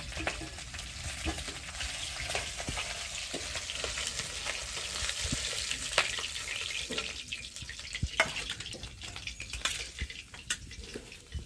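Retha river fish frying in hot oil, a steady close crackling sizzle throughout with occasional sharp pops and faint utensil clinks.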